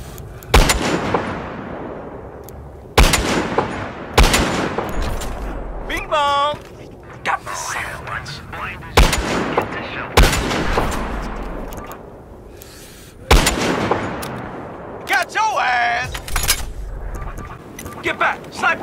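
Heavy M82 .416 sniper rifle shots in Battlefield Hardline ring out as loud, sharp blasts roughly every two to four seconds, each trailing a long decay, with game chatter and brief in-game voices between them.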